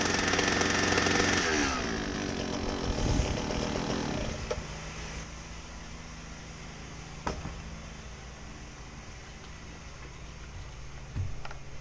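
A grease gun runs with its screws loose, giving a steady buzzing motor whir with rattling that sharpens early on, then continues as a lower hum with occasional clicks.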